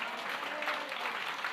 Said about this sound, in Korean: 박수 주님께 할렐루야